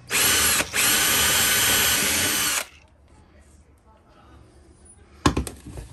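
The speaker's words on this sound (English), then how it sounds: "we're going to start off with just a little pilot hole" A power drill boring a small pilot hole through a camper van floor whirs loudly and steadily for nearly three seconds with a brief dip, then falls quiet before a few close knocks and clatters.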